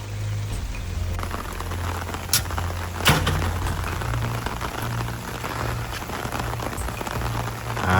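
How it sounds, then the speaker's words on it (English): Steady rain pours down outdoors at night around a telescope rig set up outside, a dense continuous patter with a few louder drips and splashes standing out, no voices. "It's raining."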